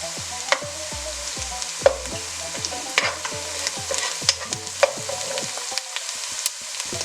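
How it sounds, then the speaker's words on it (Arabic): Mashed garlic and a spoonful of hot pepper paste frying in a pan while being stirred, a steady close sizzle broken by repeated scraping stir strokes and light utensil clicks, with no talk. "وبضيف الثوم المهروس، معلقة صغيرة معجون الفلفل الحاد، وبحركن شوي"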